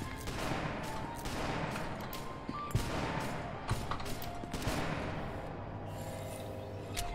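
Video game gunfire crackles in rapid, repeated bursts across the whole stretch, loud and near, with dense shooting and occasional sharper shots, and little talk.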